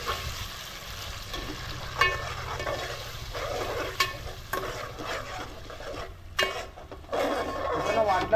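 Ground masala of coriander and garlic with tamarind cooking in oil, stirred in a pot over low heat, with steady scraping strokes and a soft sizzle at close range, a faint voice in the background.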